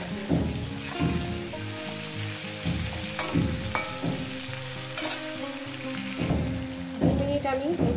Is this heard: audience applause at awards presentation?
no